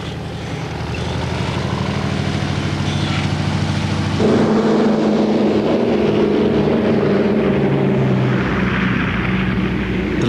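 Douglas DC-3 propeller airliner, a steady loud drone of piston engines and propellers that grows slightly louder partway through, continuous and near, with no talk.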